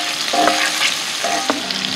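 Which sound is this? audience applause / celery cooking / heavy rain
celery cooking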